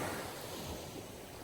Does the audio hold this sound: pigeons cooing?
no